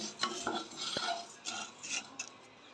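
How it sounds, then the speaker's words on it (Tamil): Coriander seeds dry-roasting in a pan, quietly stirred with a metal spoon that gives a few light scrapes and clinks in a short, faint burst. "அதனால் வந்து ஒரு 2 நிமிஷம் வந்து நம்ம வறுத்து எடுத்துக்கலாம் தனியாவை"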